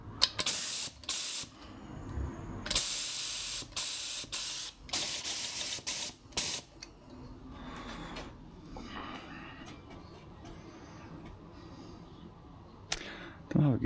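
Short, repeated bursts of a spray gun applying paint during car bodywork, loud hissing blasts separated by pauses, with quieter spraying later; a person talks in between.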